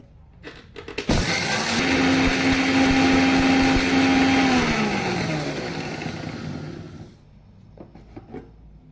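Electric mixer grinder running on dry ginger and fennel seeds, a loud steady whine that starts abruptly, holds with a falling motor tone as it winds down, then stops, leaving quiet room sounds.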